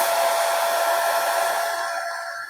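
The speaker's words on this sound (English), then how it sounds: "I'm going to get my hairdryer again" A hair dryer blows over a wet watercolour painting, a steady loud rushing roar held throughout that eases off slightly near the end.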